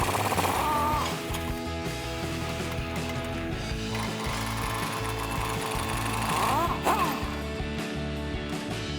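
An impact gun loosens the axle-side track bar bolt of a Jeep Wrangler JL through a 21mm socket, hammering out a loud, continuous rattling burst that runs nearly the whole time with a few metallic clanks.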